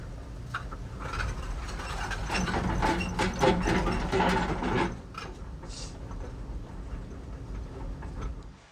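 A Kobelco excavator tracks along on its crawler tracks, giving a loud, steady mechanical clanking and grinding with no talk. The noise eases somewhat after about five seconds.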